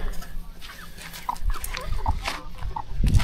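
Young chickens cluck softly and intermittently close by, short repeated clucks over a low outdoor background with faint voices.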